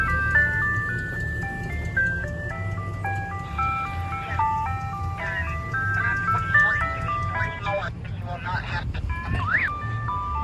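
An ice cream truck at a railroad crossing plays its tinkling electronic jingle over a low engine idle, the melody looping steadily and loudly near by, with brief noise and a voice late on.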